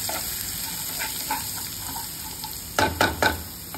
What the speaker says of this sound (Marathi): नंतर मग मेथी टाकली.